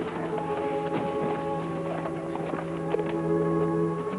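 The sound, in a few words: horse hooves clip-clopping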